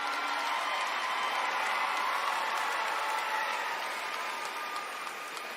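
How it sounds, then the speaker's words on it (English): A commencement audience applauding the 2021 graduates, a continuous broad wash of clapping from a large crowd, steady and moderately loud, tapering slightly near the end. "Let's have another round of applause for all of our 2021 graduates."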